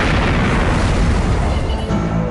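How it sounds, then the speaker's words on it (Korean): A loud, sustained roaring blast from a fuel tank explosion test staged for the TWA Flight 800 crash investigation, a dense broadband boom filling the whole moment with no voices. "조사팀은 연료 탱크 폭발이 비행기를 추락시킬 수 있는지 실험해봤습니다."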